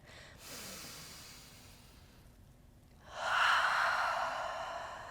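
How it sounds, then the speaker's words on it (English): Deep, airy inhale during a guided breathing meditation, heard alone as a soft breath, a pause, then a louder, longer rush of breath near the mic. "Breathing in now, left to right."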